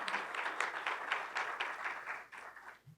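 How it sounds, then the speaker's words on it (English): A crowd applauds the VIA team at a contract opportunities forum: dense, steady clapping from many hands for about three seconds, fairly close, tapering off near the end. "I want to give this team a round of applause and a great deal of gratitude."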